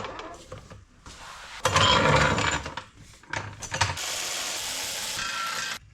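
Metal nuts being threaded and ratcheted onto turbo studs of a Subaru WRX during a turbo install, with bursts of clicking ratchet and mechanical rattling, close and fairly loud, no talk.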